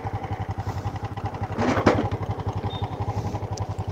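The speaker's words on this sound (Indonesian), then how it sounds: "Suara mesin di tengah. Jadi semuanya bunyi ya, sebelah kanan kedengeran, kiri kedengeran," A Honda Supra motorcycle engine idles close by with a rough, rapid rhythmic clatter, briefly rising in a raspy burst before settling back to its uneven pulsing.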